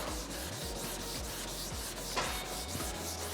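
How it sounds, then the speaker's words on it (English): Wet colour sanding with 800-grit paper on the painted bonnet of a 1971 Chevrolet Camaro, a steady close scrubbing rasp in back-and-forth strokes with a slight catch partway through, with no talking. "Now being 800, this is what I would class as a full colour sand cut"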